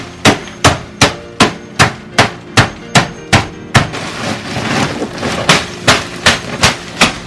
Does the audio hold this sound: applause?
no